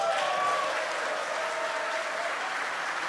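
Applause from a crowd of spectators after a SpaceX Falcon first-stage booster lands on its fourth flight during the Crew-4 mission, a steady, moderately distant wash of clapping with faint tonal sounds riding over it.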